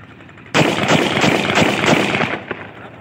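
A Russian-copy 30 bore pistol fires a rapid string of loud, close shots in about two seconds during test firing, one more shot following shortly after, with no talk over it.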